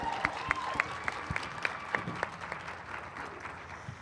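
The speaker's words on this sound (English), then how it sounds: "Give another round of applause for Ms. Elizabeth Franklin." Sparse, fairly faint clapping from an audience at a youth panel in St. Louis, with a few distinct claps standing out in an irregular rhythm before it thins out.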